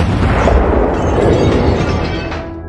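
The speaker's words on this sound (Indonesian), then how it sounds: "mobil itu pun meledak" A rocket-powered car explodes after a speed test against a jet, a loud, dense roaring blast with crackling debris that fills the whole moment and slowly tails off.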